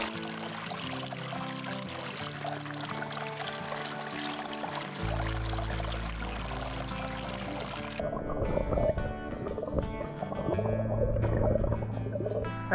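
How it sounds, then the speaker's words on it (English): An ice-cold mountain creek flows and burbles close by, a continuous gurgling, pouring rush of water that grows busier and splashier toward the end, with no voices. "So I've come across this beautiful creek"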